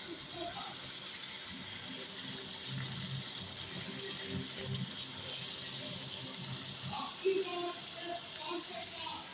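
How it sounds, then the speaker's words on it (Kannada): Water pours into a biryani mixture in a cooking pot, a continuous splashing, running flow lasting several seconds, with faint talking in the background. "ಮಿಕ್ಸ್ ಮಾಡಿಕೊಂಡು ಸ್ವಲ್ಪ ನೀರು ಹಾಕ್ಕೊಂಡಿದ್ದೀವಿ"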